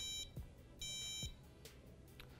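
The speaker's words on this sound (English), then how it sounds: "the Draco itself will start beeping like so" Two sharp electronic beeps from a UVify Draco drone that has lost radio connection sound about a second apart, with faint clicks and quiet background noise in between.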